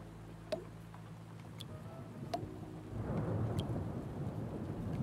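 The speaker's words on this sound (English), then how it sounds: "I do like the sound of rain, but maybe not in this game right now. That means thunder." A low rumble of thunder rolls in, then steady rain sets in and hisses on, with a few sharp ticks scattered over the rain, in the game Two Point Hospital.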